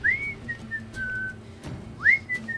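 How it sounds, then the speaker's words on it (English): A person whistles a short tune of rising and sliding notes, two phrases separated by a pause, clear and fairly close over a soft low background hum. "whistling."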